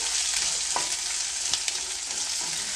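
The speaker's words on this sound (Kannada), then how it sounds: "ಇವಾಗ ನಾನು ಸಣ್ಣದಾಗಿ ಕಟ್ ಮಾಡಿ ಇಟ್ಕೊಂಡಿರುವಂಥ ಶುಂಠಿ ಮತ್ತು ಬೆಳ್ಳುಳ್ಳಿನ ಹಾಕ್ಕೊಳ್ತಾ ಇದ್ದೀನಿ" Finely chopped ginger and garlic frying with onions in a pan, a continuous bright sizzle with a few soft stirring knocks, close and steady throughout.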